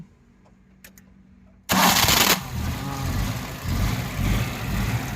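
A Maruti Omni van with a starting complaint is at an auto car care workshop. After quiet clicks, its engine catches with a sudden loud roar, then settles into a rough, throbbing idle with revs rising and falling.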